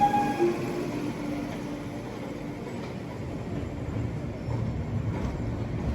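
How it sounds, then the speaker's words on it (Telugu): Navyug Express pulling out of a junction, a steady low rumble of rolling wagons heard from on board, moderately loud and continuous with faint tonal squeals. "జంక్షన్ నుంచి మన ట్రైన్ అయితే బయలుదేరిపోయింది."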